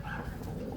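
Faint pigeon cooing, soft and brief, from tournament-flown, top-quality breeding pigeons kept for sale.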